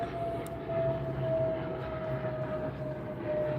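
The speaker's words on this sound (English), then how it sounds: "Plane's coming in hot." A distant airplane flying in gives off a steady, droning roar with a faint constant whine, heard in a workshop where a KTM 300 dirt bike is being serviced, with no talk.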